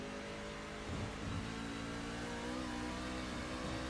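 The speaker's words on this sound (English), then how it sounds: "you can just hear how much these guys are on throttle, off throttle, how just the car sounds and reacts" Racing trucks at Watkins Glen roar steadily, engines rising and falling as drivers go on and off throttle, a dense continuous mechanical drone heard from a distance with no talk.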